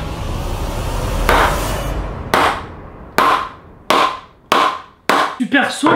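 Hammer blows striking a wooden bowling pin, about six sharp, loud knocks at uneven intervals after a short stretch of noisy lead-in, the last two coming close together.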